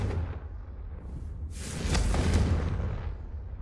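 A Confringo fire spell blasts in Hogwarts Legacy on PC, a loud whooshing burst that swells into a rumbling explosion and slowly fades, with no talking over it.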